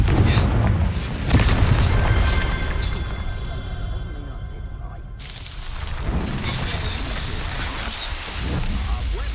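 In Hogwarts Legacy, a Confringo explosive spell goes off as a loud boom with a fiery whoosh, followed by rumbling debris and crackle in a busy game soundscape, and a voice is heard briefly.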